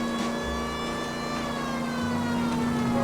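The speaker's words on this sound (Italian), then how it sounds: "Dai, spostati su, c'ho la sirena" A police car siren wails steadily in the video game L.A. Noire, a sustained tonal cry held over a low engine rumble throughout.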